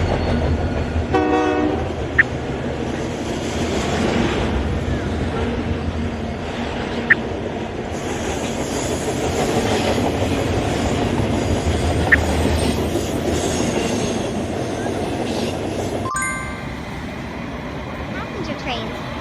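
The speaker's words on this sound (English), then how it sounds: "Freight trains carry goods and products across long distances." A freight train rumbles steadily along the rails with a brief horn near the start and periodic clacks, a continuous loud passing roar.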